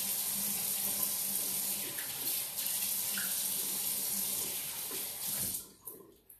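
Tap water runs steadily into a sink for a face wash, a continuous close splashing hiss that tapers off and stops near the end.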